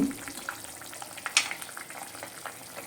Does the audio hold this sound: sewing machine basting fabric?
no